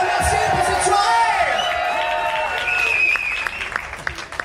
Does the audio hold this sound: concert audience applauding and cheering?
yes